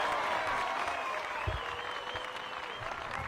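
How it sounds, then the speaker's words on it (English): Spectators at the final round of the 2024 European Open disc golf tournament break into sustained applause and cheering, a dense roar that stays loud throughout while voices murmur beneath it. "We didn't have the gain levels prepared for those roars"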